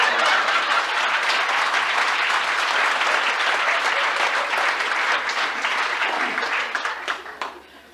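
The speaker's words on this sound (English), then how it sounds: "To make this complete, let's give George a round of applause" A full room breaks into applause for a retiree at a retirement gathering, a thick, even wash of many hands clapping that holds steady for several seconds and then fades away.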